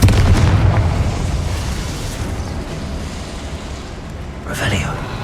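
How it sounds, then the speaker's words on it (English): A Confringo fire spell explodes in the Hogwarts Legacy video game, a loud boom at the start that rumbles and fades over several seconds, with a second burst near the end. "Confringo."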